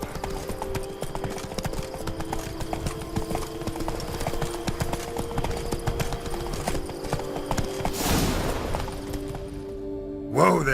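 Roach, the horse in The Witcher 3, clip-clops along at a steady gait, hooves beating in close rhythm under quiet game ambience, with a brief rushing burst and a short snort near the end.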